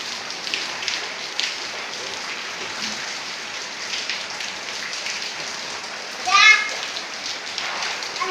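Rain patters steadily on surfaces while children play in it, their voices faint and scattered beneath the downpour, with one brief louder shout near the end.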